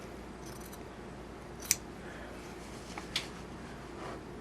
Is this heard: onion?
no